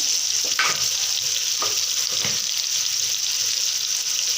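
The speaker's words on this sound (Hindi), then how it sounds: "आधा चम्मच हल्दी पाउडर, 1 चम्मच लाल मिर्च कूटी हुई वो डालनी है" Turmeric and crushed red chili go into a hot frying pan while cooking a white chickpea curry, bringing a steady close sizzle broken by a few short stirring scrapes, with no talking.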